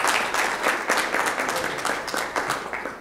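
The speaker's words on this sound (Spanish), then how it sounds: "don Fernando Sánchez, para quien yo pido un aplauso" A small audience claps warmly, a short burst of scattered, moderately close hand-clapping that tapers off after a few seconds.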